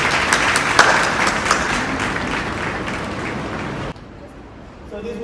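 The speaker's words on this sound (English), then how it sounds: "we'd like to give them a big round of applause for being on Late Night Watch" Studio audience applauding talk show guests, loud dense clapping that holds steady for about four seconds, then cuts off abruptly to near quiet with faint sound returning.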